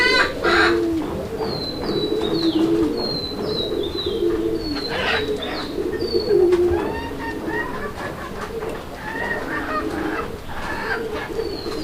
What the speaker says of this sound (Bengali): ডাকের গেট আপটা তো দেখতে পাচ্ছেন কিভাবে ডাকে